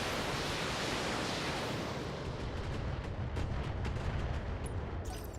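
Weapons fire hits a mech in the BattleTech video game. A loud, dense roar of blasts and rushing noise runs throughout, with crackling impacts sharpening toward the end, and no talk.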